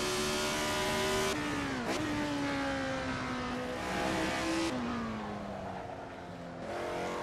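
Retro F1 race car engine in a sim racing game, a loud steady high-pitched drone dipping and rising through several quick gear changes and lifts.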